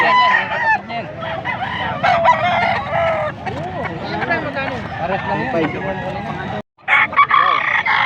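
A rooster crows repeatedly, loud and close, with other fowl clucking around it while someone talks over the noise.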